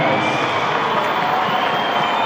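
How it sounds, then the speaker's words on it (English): A cricket crowd at an England versus Sri Lanka Champions Trophy match applauds a batsman reaching fifty, a dense, steady wash of distant clapping and crowd noise filling the whole stretch. "for the moment Angelo Matthews gets the applause"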